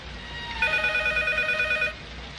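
A telephone rings in the horror video game P.T., one bright electronic trill lasting over a second, heard up close above a low ambient drone.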